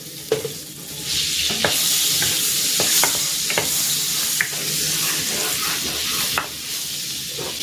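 Butter melts in a hot kawali ahead of sautéing garlic and onion for chicken macaroni sopas, giving a steady, close sizzle with a few sharp clicks and pops and light stirring, no voices over it.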